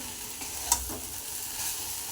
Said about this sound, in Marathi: ही भेंडी अशी सारखी हलवत राहायची आहे